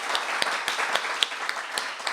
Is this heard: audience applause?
yes